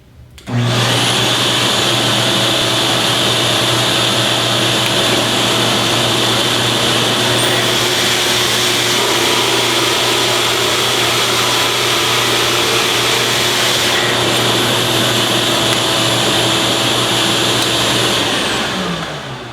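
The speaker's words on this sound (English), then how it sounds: "we'll go ahead and do that again with the dust collection on and see how we do" A drill press boring into wood with a Forstner bit while a Drillnado dust collection vacuum runs, giving a loud, steady whine and roar that holds for nearly twenty seconds with no talking.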